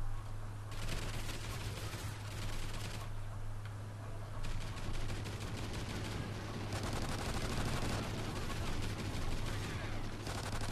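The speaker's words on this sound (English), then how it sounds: "LMG with rapid fire on it." Rapid, sustained bursts of light machine gun fire in a Call of Duty video game, fitted with a rapid-fire modification, crackle loudly and nearly continuously through the clip.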